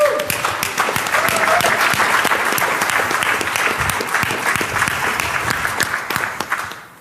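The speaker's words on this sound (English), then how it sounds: "So please give an applause to Barnaby Jack." Steady, dense audience applause at a Black Hat 2013 security conference, loud and continuous for several seconds before tapering off at the end, with no talking over it.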